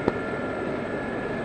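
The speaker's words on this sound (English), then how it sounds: "I think I've got issues with this helicopter." Steady drone of a Gazelle helicopter in the DCS flight simulator, a constant engine and rotor hum with a whining tone and one brief bump at the start.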